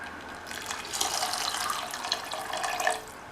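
Water pours steadily into a pot of tamarind curry with elephant foot yam during cooking, a close, continuous splashing stream lasting a few seconds with no talk.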